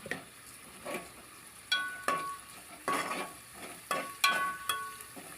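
Chicken pieces with ginger paste and turmeric fry in oil at a village kitchen, with a soft continuous sizzle broken by regular scraping and clinking stirs of a metal spoon against the pan.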